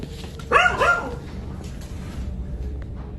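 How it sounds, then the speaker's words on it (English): A family dog barks at a basement door indoors, one sharp close bark followed by a short second yelp, then quiet room noise. "The video begins with the family's dog barking at the basement door"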